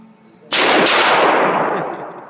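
A single loud gunshot cracks at an outdoor gun range, an abrupt blast with a long rolling echo that slowly fades, after a quiet moment.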